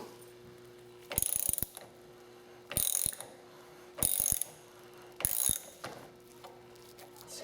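A ratchet wrench unscrewing the bottom valve of a suspension, with four loud bursts of rapid clicking separated by short quiet gaps, close and without speech.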